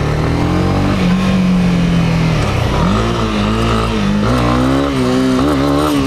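A 2018 Honda CB300R motorcycle engine revs hard and loud up close during a wheelie attempt. The pitch climbs, dips, then surges again through repeated throttle blips, with no talking.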